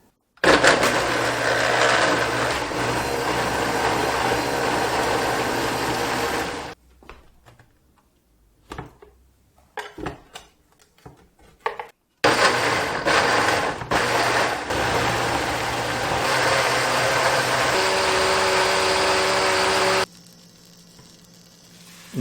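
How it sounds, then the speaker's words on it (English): A kitchen blender whirs loudly and steadily as it purées curry ingredients for an authentic chicken curry, runs for several seconds, stops into near silence with clatter, then starts again for a second long run before cutting off. "Now blend all of it really smooth."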